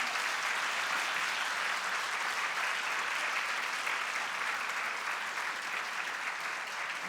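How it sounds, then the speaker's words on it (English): Sustained applause from a graduation ceremony audience for the graduates' supporters, a dense, even wash of clapping that holds steady from start to end. "give a big round of applause to all those people who've been there for you"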